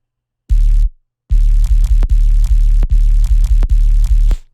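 Dubstep drum and bass group with heavy sub bass, playing reggaeton-style drum and bass shots: loud booming low hits in a steady syncopated pattern with short gaps, no voices.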